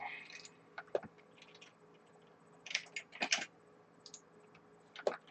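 Light typing on a computer keyboard, scattered soft key clicks in uneven bursts, faint and close, with brief pauses between taps.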